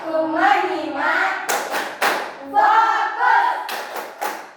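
A classroom of children chant a rhythmic focus cheer in Indonesian, punctuated by sharp bursts of group hand clapping, close and loud, alternating with the sung words.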